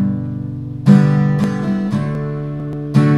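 An acoustic guitar strums the chords of a song, with ringing chords and a few sharp accented strums standing out from the steady pattern; no talking.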